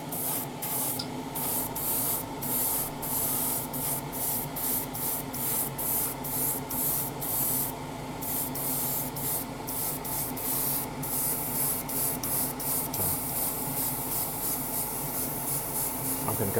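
An aerosol can sprays black paint onto model motorcycle frame parts for a Tamiya Yamaha YZF-R1M 1:12 kit. The hissing comes close and loud in repeated short bursts with brief gaps between them.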